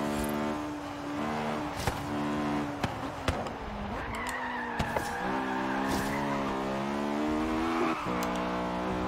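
An Acura Integra Type R racing in Forza Horizon 3, its engine droning steadily with rising and falling revs through gear changes, with occasional sharp clicks, loud and close throughout.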